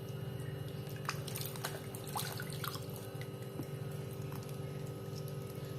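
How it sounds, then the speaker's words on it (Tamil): Water splashes and trickles steadily as a crab is rinsed by hand, with drips and small sloshes over a constant running-water background. "இப்போ இதை நல்லா தண்ணியில் இப்படி நல்லா அலசி எடுத்துக்கங்க."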